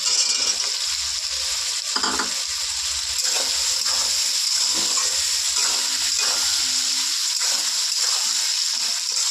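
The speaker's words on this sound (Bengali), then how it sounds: "এবার দেব আলুটা।" Fried potatoes added to a pan of cabbage cooked with fish head, giving a loud continuous hiss of sizzling and bubbling with a few splashy stirring movements, close by.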